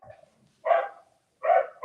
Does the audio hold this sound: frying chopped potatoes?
no